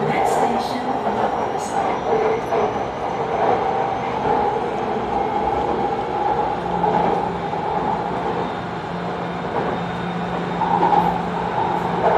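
Steady rumble and rolling hum of a Bangkok Purple Line metro train travelling between Bang Yai and Tao Poon, heard from inside the car, with faint background voices and an even, continuous ride noise throughout.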